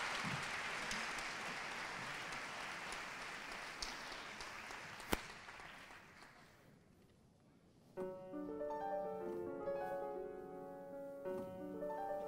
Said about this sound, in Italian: Vabbè, un bel applauso, Andrea al pianoforte.